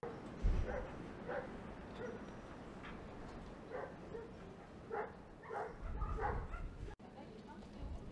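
Several dogs at a rural home in a shelled frontline town bark and yip in short scattered bursts at moderate distance, with a whimper among them and faint background voices.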